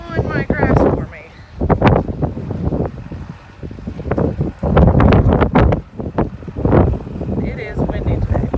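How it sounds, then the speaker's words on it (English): Strong, gusty wind of around 40 mph buffets the microphone outdoors in a grassy yard where a cow is grazing, making rough, surging roars under a voice that speaks intermittently. "It is windy today, like 40 miles per hour winds."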